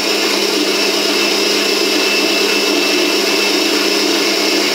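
An electric mixer runs continuously while eggs are beaten into chocolate frangipane batter, giving a loud, unbroken motor whir close by.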